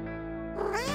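A high, tonal meow for the Cheshire Cat, close and clear, one drawn-out call that rises and bends at the end, with a steady hum underneath; likely a voice imitating the cat.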